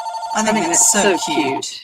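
A telephone rings indoors at a card-stamping craft table, with repeated loud electronic trills that overlap someone speaking.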